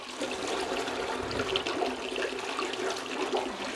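A toilet, its bowl freshly cleaned with CLR, flushes in a steady rushing wash of water that continues evenly throughout, near and fairly loud.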